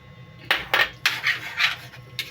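A spoon stirs Filipino pork adobo with soy sauce in a pan, giving about half a dozen close metallic clinks and scrapes in an uneven rhythm, with no talking.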